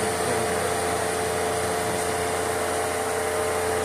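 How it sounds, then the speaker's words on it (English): A Dayton exhaust fan in a high school art back room runs with a steady, unbroken motor hum and airy whoosh, close and constant. "This fan is really nice."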